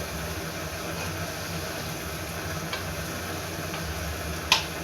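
New onions fry in a pan for beresta with a steady, moderate sizzling hiss and a few faint ticks and one sharp clink near the end; no one speaks.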